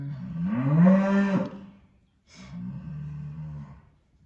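Cattle on a pasture lowing, two long deep moos in a row, near and clear with a short pause between them, no voices.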